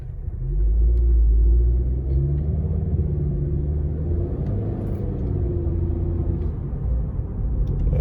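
A Honda Civic Sport hatchback engine rumbles steadily at low pitch, close and fairly loud, with a faint rise and fall in tone and no talking.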